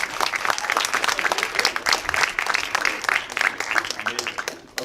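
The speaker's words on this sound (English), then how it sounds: "one big round of applause for Vivek Pandit." An audience applauds a speaker at a speaker summit with full, continuous clapping from many hands that holds steady and then thins out near the end.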